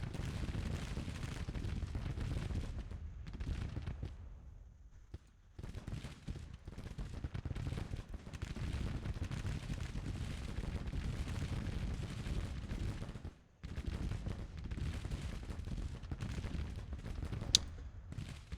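Artillery and rifle fire in a Civil War strategy video game, a dense continuous roar of overlapping gunfire and cannon blasts with brief lulls, loud and sustained without speech.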